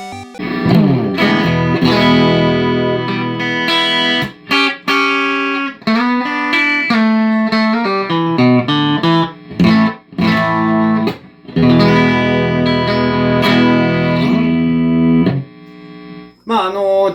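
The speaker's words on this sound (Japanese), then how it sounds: "ではね、早速クリーン弾いていきます。" Clean electric guitar tone with mids boosted and bass near full, amp set as a base for a BOSS OD-3 overdrive, played as a steady run of chords and arpeggios, loud and crisp with brief pauses.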